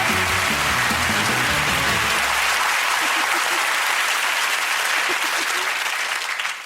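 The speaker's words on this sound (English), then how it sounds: "Let's give him a round of applause" Studio audience applause on a television chat show, loud and sustained throughout, a dense wash of clapping with a voice briefly audible under it at the start.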